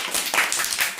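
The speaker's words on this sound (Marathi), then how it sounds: "कोमलसाठी सर्वांनी टाळ्या वाजवायच्या।" Schoolchildren in a classroom numeracy activity clap together for a classmate in a short, quick burst of scattered claps at moderate volume.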